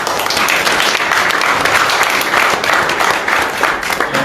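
A church congregation applauds the Lord together, a dense, steady wall of clapping from many hands that holds at an even loudness throughout.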